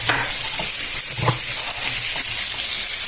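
Garlic frying in a pan, a steady close sizzle and hiss with a few soft stirring scrapes underneath, loud and continuous with no talking.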